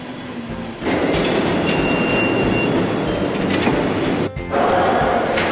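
A New York City D subway train rumbles loudly into the Rockefeller Center station, with a rising roar, squealing wheels and clattering cars rolling past close by; no one speaks.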